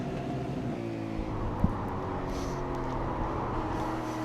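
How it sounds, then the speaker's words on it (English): Sim racing V8 race car from a Fincar V8 series game at Interlagos, engine droning steadily near the rev limiter with a brief sharp click midway, heard alone without talk. "John Latham well and truly hitting the rev limiter there to get the car slowed down into turn 1 and 2"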